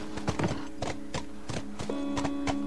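A horse's hooves clip-clop in the video game The Last of Us, a steady series of close, crisp hoof strikes in an even walking rhythm, heard alone.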